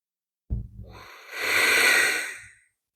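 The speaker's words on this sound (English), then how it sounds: "Take some deep inhales and exhales through the nose." During a yoga session, someone takes a deep breath in and out through the nose: a short intake, then a long, airy, steady exhale that swells and fades, close and alone.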